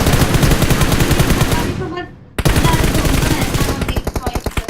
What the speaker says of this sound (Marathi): सगळ्या गोळ्या त्याच्या भिंतीला लागल्या